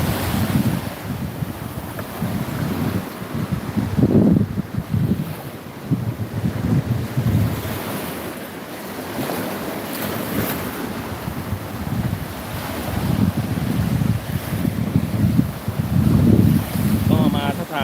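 Surf washes onto a beach at night with a steady broadband roar, swelling in several surges under continuous wind buffeting the microphone.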